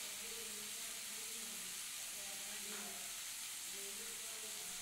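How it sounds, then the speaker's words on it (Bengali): Ridge gourd fries in oil with cumin seeds, making a soft, continuous hiss and sizzle, fairly faint and steady, over a low background hum. "ঝিঙেটা তেলের মধ্যে জিরে ফোড়ন দিয়ে ঝিঙেটাকে একটু ভেজে নিলাম"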